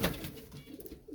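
Pigeons coo softly at close range in a brief low warble, with no voices.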